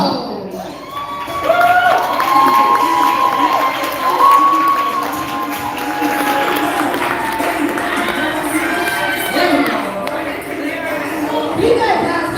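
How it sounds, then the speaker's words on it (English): Audience at a motivational awards event clapping and cheering for an award winner, a loud, continuous crowd roar of applause, whoops and shouts that swells and holds throughout, with a voice talking over it. "Go ahead and clap it up some more"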